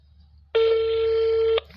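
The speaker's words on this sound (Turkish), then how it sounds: "Çalıyor." A single steady electronic ringback tone on a phone call to Türk Telekom customer service, lasting about a second, loud and clear over faint room hum.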